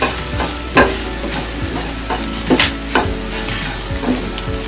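Beetroot fry with chana dal, coconut, coriander powder and spices gets stirred in a pan, loud close spatula scrapes and knocks repeating over a constant sizzle, no voices.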